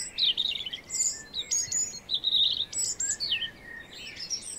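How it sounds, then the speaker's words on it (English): A robin sings high in the trees in a spring woodland, a run of bright, varied warbling phrases that repeat close together and stand out clearly above a soft background hum. "Higher up in the trees, numerous birds are still on the lookout for a partner. The robin is one of the loudest."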